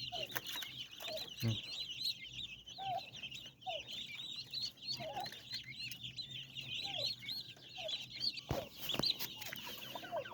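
Chickens and turkey chicks cluck steadily in short, repeated calls with faint chirping, fairly quiet and continuous with no talk.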